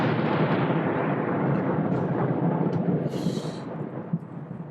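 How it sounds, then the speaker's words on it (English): Low, continuous thunder rumbles through a storm, steady and broad throughout with a slight swell near the end. "that was more thunder"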